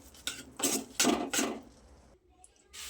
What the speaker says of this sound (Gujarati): એને આ રીતે હલાવતા જઈશું એટલે નીચે બેસી ના જાય